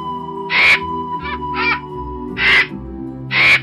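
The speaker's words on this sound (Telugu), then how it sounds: "కాకి తృప్తిగా నీరు తాగి దాహం తీర్చుకుని రివ్వున ఎగిరిపోయింది" A cartoon crow caws in a children's animated story, giving about five loud, harsh calls in short bursts over a sustained musical backing.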